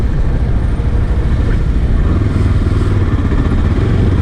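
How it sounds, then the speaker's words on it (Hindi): A 2022 Yezdi Adventure motorcycle engine runs steadily while riding, a loud, continuous low rumble mixed with heavy wind noise, with no break across the stretch. "उसके बाद इंजन का साउंड भी काफ़ी कम है"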